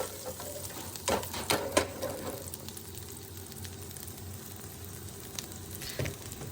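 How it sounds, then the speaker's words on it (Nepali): Liver fry with chopped ginger, garlic, onion and green chili stirred in a pan over a high flame: a steady sizzle with a few sharp scraping strokes of the spoon early on and another near the end, no voices. "यसलाई चलाइराख्ने हाई फ्लेममा ब्राउन कलर नआएसम्म।"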